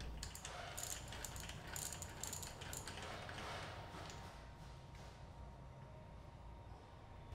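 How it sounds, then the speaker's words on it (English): Bicycle freewheel being unthreaded from the hub, a quick close run of ratcheting pawl clicks at the start that eases into quieter, sparser clicking over faint background hum. "Continue to unthread the freewheel."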